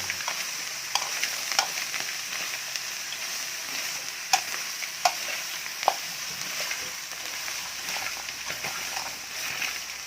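Edible insects such as cicadas and beetles frying in a pot, giving a steady, close sizzle with scattered crackles and pops and occasional stirring scrapes, with no talk over it.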